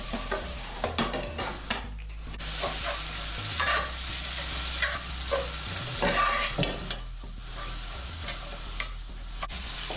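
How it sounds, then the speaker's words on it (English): Onions sizzle and crackle steadily in a hot pan as they are stirred while a courgette sabji cooks, a loud continuous frying hiss with scraping stirs running through it and no talk. "and we're going to add our onions"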